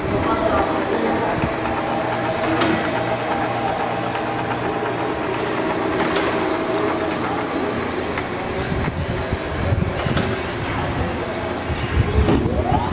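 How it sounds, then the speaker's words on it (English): Fortuna IDOD cylindrical grinder, an 18 by 40 inch machine, with its workhead running: a steady, loud mechanical hum and whir with rumbling undertones that holds throughout. "Here we got a Fortuna IDOD grinder. I'm gonna show the workhead working."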